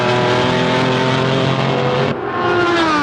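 Racing car engines roar loud and close during a motor race, a thick continuous drone with steady pitch that cuts briefly near the end before resuming. No voices.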